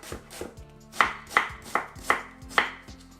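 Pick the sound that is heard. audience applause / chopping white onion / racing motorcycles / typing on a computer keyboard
chopping white onion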